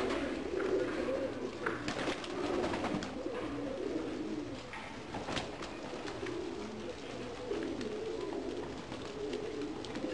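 Pigeons, a flock of green-eyed birds, coo and stir near the mic as they drink warm water set out against the cold, a steady murmur of soft cooing with scattered wing and shuffling sounds throughout.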